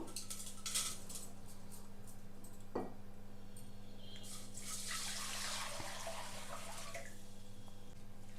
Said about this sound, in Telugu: ఇప్పుడు సాల్ట్ వాటర్లో ఈ ఆకంతా శుభ్రంగా కడిగేస్తున్నాను